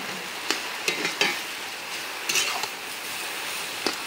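Taro leaves with chopped chilli and turmeric sizzle steadily in a kadai while a spatula stirs them, giving a few sharp scraping clicks over the continuous close frying hiss.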